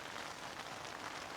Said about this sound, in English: The sound of the rain, very relaxing.